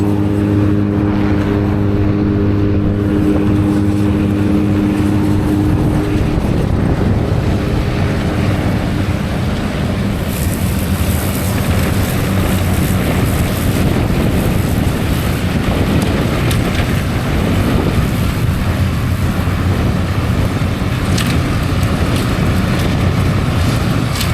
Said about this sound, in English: The double chop will pick it up back through an auger and in through a chopper and a blower.